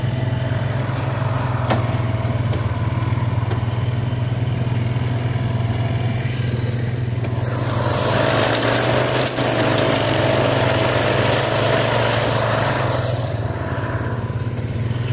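Tractor pulling a rough cut mower across an overgrown field, a steady loud engine drone with a low hum throughout and a denser, harsher cutting roar swelling in the second half as the deck bites into heavier growth.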